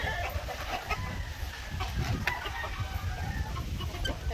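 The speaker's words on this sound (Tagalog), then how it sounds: "So ito yung mga manok na nakalabas." Several White Leghorn chickens cluck and chatter continuously nearby, with a rooster's crow mixed in and wind noise underneath.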